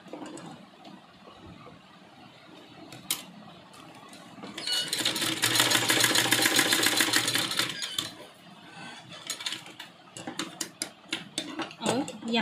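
Electric sewing machine stitching a strip of fabric on a tunic top cut from an old kurti, running in a loud steady burst of several seconds, followed by shorter stop-start stitching, with quieter handling sounds before.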